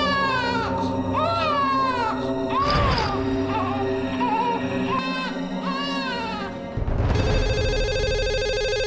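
A baby cries inside a locked house, wailing in long rising and falling sobs that fill the clip, with a telephone ringing tone joining near the end.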